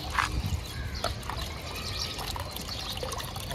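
Water trickling and pouring steadily into a small fish pond, a continuous close splashing flow with a few brief sharper splashes near the start.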